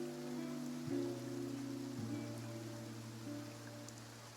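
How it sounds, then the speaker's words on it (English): Steady video game rain hiss with soft patter spread across the whole clip, under a sustained low musical drone that shifts pitch a couple of times. "Why is it raining?"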